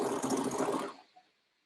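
A sewing machine stitches a garment bodice lining and facing, its needle running in a steady fast whir for under a second before stopping, with a faint click after, close by and alone.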